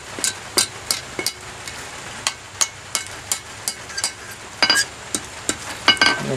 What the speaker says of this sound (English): This isn't the best hammer for, you know, scrolling or anything, but it works.